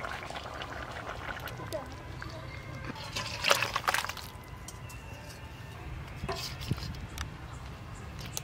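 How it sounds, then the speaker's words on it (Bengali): Rohu fish curry with drumstick pieces is poured out of a cooking pot, a wet, sloshing stream with a brief louder splash midway over a steady low background hum. "দুই একবার ফুটে গেছে এবার ঢেলে নেব।"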